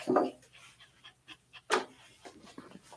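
A maltipoo pants in quick, close breathy bursts during a grooming session, with short pauses between the breaths.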